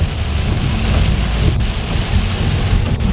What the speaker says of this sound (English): Well, this looks like more than a little rain to me.